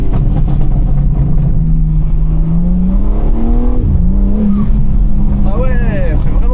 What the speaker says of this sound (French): elle fait vraiment du bruit la dumb valve